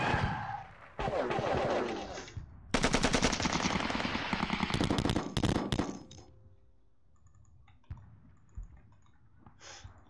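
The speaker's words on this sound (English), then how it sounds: "let's just start shooting the Kiwis up" Bursts of video-game gunfire from John Tiller Software's WWII wargame Sealion '40, loud rapid machine-gun rattles and shots for about five seconds, then quieter scattered shots and clicks.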